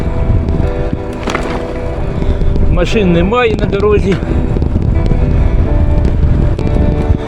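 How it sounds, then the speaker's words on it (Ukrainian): Steady side wind buffets the microphone on a bicycle ride with low rumbling noise while someone speaks briefly over it, along with road and engine hum. "Вітер такий боковий, трохи збоку задуває"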